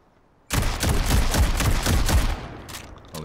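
Gunfire in the Delta Force: Hawk Ops Zero Dam PvP mode bursts in loud and sudden after half a second of quiet: a rapid, close string of shots for about two seconds, then fading into a softer tail.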